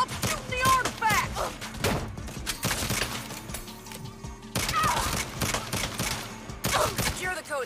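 Video game gunfire crackles in dense rapid volleys and single sharp shots throughout, mixed with in-game voices, thuds and effects. The mix is loud and busy.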